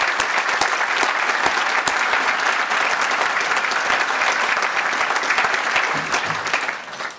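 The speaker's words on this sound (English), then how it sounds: "if we could all give a round of applause to all of the Burbank Police Department" Loud, sustained applause from a large crowd at a police awards luncheon honoring the Burbank Police Department, a dense continuous roar of clapping that tapers slightly at the end.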